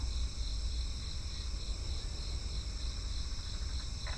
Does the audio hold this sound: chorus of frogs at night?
yes